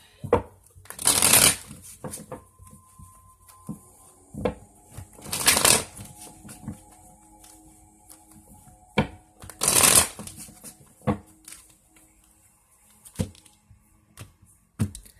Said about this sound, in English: I'm going to pull an affirmation card.